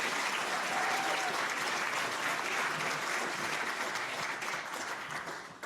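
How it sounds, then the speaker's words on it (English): An audience at a dinner panel event applauds Coach Tom Harp, a former football coach, with steady sustained clapping throughout, some faint voices mixed in, tapering slightly at the end. "let's give a big round of applause for Coach Tom Harp"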